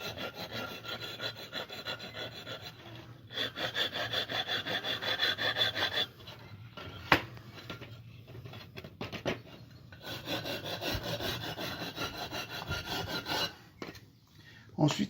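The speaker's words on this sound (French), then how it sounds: "Un petit coup de râpe comme ça." A hand rasp filing a small sculpture, heard as close, rhythmic scraping strokes in bursts separated by short pauses, with a faint knock partway through.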